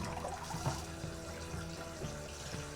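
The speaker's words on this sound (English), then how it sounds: "With the clip and the perforated plate, I think we're seeing the best dispersion of the water we've seen so far." Water streams steadily through a perforated sparge plate in a home brewing setup, a soft continuous splashing and trickling with no talk.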